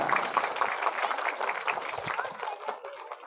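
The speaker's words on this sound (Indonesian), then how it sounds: "Tepuk tangan buat anak-anak." A crowd at a Maulid religious gathering claps for a few seconds, a dense patter of applause that gradually thins out.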